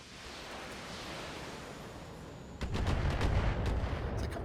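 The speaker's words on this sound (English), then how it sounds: "I personally have no interest in taking AC-20 fire, you guys." AC-20 autocannon fire strikes in a BattleTech mech battle, a low ambient rumble that suddenly gives way to a heavy barrage of booming impacts about halfway through, with no voices.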